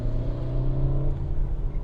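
A Peugeot 3008 SUV climbing uphill toward Antipolo, its engine giving a steady low droning hum heard from inside the cabin, fairly loud and continuous with no talk.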